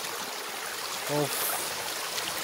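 Water from a mountain stream flows steadily at its source near a beach of ice that does not melt, a constant close rushing wash with a brief voice cutting in.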